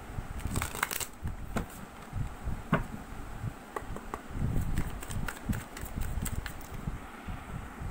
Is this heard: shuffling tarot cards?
yes